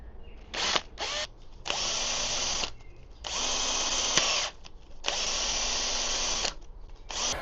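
A power tool cuts a screw thread into the shortened steering shaft of a Teverun electric scooter, whirring in repeated bursts of about a second each with brief stops between them and no talking.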